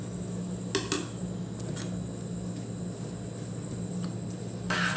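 Metal utensil clinking against a pot while herbs and aloe vera are dipped and stirred into oil, a few light taps spaced apart over a steady low hum, with no talking.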